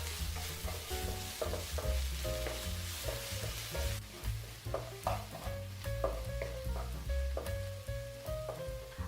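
Five grated garlic cloves sauté in a pan, a soft sizzle broken by repeated scraping and stirring knocks from a utensil, fairly quiet and close.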